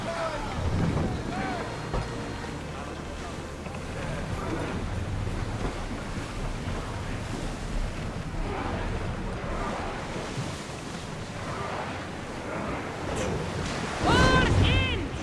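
A sailing ship glides across the sea in Assassin's Creed Odyssey, with steady wash of waves and wind rushing continuously, while crew voices call out over the water and a louder swell rises near the end.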